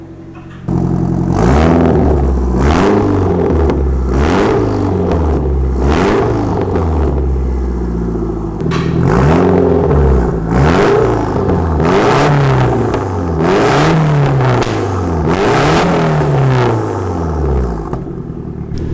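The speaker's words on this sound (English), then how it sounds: "It's like, it sounds really sick. Like you can really hear the turbo spool." An SR20DET turbo engine revs hard and repeatedly through a new exhaust, each loud rising sweep falling back with turbo spool and whoosh between blips, close up and with no talking.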